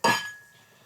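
A single bright glass clink as whisky glasses are handled and a glass is chosen, one sharp ringing strike that fades into a long, thin tone.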